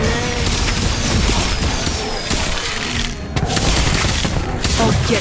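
A Whizbang spell in Harry Potter: Magic Awakened sets off a dense, crackling burst of explosive blasts and shattering impacts, loud and continuous with a brief dip midway before surging again.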